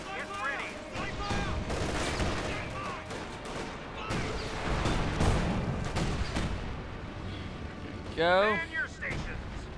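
Company of Heroes 2 battle sounds: dense bursts of gunfire and booming artillery roll on continuously under fast, excited commentary by a caster.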